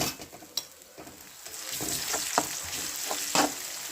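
Onions for pav bhaji sauté in a pan, giving a steady hissing sizzle with occasional spatula scrapes and stirring knocks, growing slightly louder toward the end.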